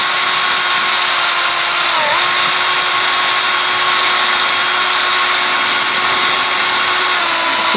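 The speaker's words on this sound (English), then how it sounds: "So I use my drill. This is like a portable drill," A portable drill spinning a buffing wheel lightly polishing scratches out of car paint, a loud steady high whine with a brief dip in pitch, running continuously throughout.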